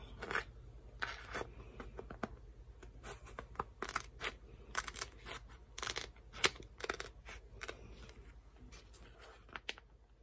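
Scissors cutting heat transfer vinyl by hand, with a string of irregular crisp snips and crunchy slices close up, some quick and clustered, others spaced apart, and no talking.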